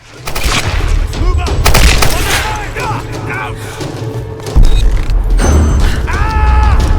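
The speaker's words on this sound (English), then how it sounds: "this is our new weapon, the assault rifle. This is one that's better for running and gunning" Assault rifle gunfire in Tomb Raider (2013), heard as repeated bursts with booming low thumps amid game mechanisms and chatter, loud and close throughout.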